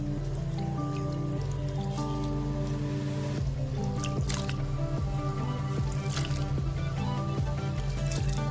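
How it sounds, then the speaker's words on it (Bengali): Lentils being washed by hand in water, with soft, faint sloshing, squishing and dripping in irregular bursts, and a quiet tonal hum in the background. "এই কলাইগুলোকে ভালো করে জল দিয়ে ধুয়ে পরিষ্কার করে নেব"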